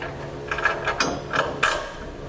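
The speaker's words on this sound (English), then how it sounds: "So we'll take our pull wire and pull the bolt on through." A pull wire drags a bolt through the frame of a 2012 Ram 3500 during a gooseneck hitch install, making a few short metallic scraping and clicking bursts close by.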